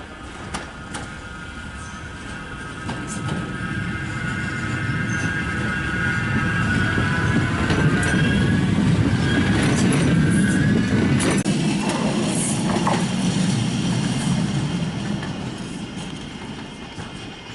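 A Manchester Metrolink Piccadilly tram pulls away from Altrincham station, its rumble swelling and then fading as it passes, with wheels squealing faintly and rails clicking along the way.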